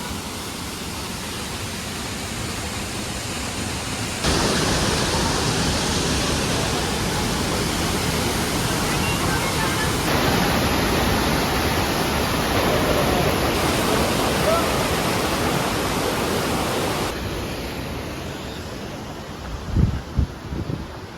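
Waterfalls cascading beside a small village in the Ourika valley, Morocco: a steady, loud broadband rush of falling water that swells after a few seconds and holds, with a few brief bumps near the end.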